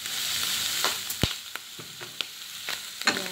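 Chicken tenders fry in a pan with a steady close sizzle, broken by scattered clicks and scraping taps of a utensil stirring. No one speaks.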